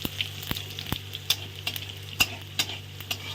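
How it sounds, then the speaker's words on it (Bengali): Cumin seeds and dry red chilies sizzle in hot oil for a mutton dish, a constant close crackling hiss punctuated by sharp clicks of a spoon stirring against the pan. "এখানে দিয়ে দিচ্ছি এখন জিরা আর শুকনো লঙ্কা ফোড়নে।"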